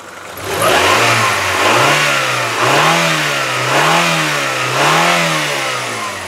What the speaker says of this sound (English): All right, let me rev this up for you. Listen up.